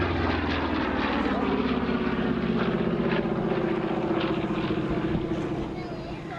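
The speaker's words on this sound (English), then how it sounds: "Nothing better than to see a solo big piston engine fighter on a day like this." A P-47 Thunderbolt, a big piston-engine fighter, flies solo at Southport Air Show with a loud, steady propeller-engine roar that fades slightly at the end, while someone talks over it.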